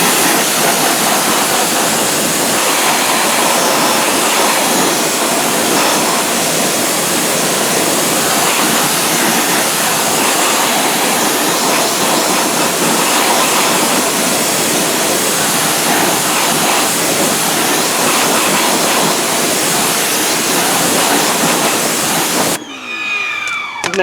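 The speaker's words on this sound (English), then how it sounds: "But let me go ahead and rinse it off." A water spray rinses Chemical Guys Diablo wheel cleaner and caked-on dust off a car wheel, producing a loud, steady broadband hiss that runs almost the whole time before cutting off near the end.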